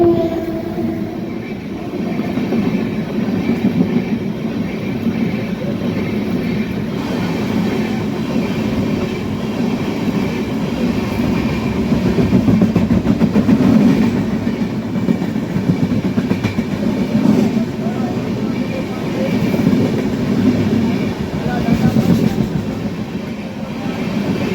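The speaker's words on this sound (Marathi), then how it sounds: "आपल्या गाडीने काय सुंदर वळण घेतले आहे" Tapovan Express passenger train running on rails in heavy rain, heard from inside a coach as a steady rumbling roar with rhythmic wheel clatter swelling and easing over the whole stretch.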